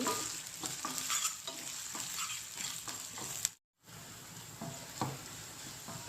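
Ginger paste fries in a pan with onions for a spinach chicken curry: a steady sizzle with scraping stirs, close by, broken once by a brief moment of silence before the frying resumes.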